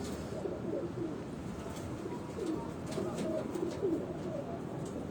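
High-flying pigeons kept by a fancier coo softly in low, repeated murmurs over steady background noise, with no clear talk.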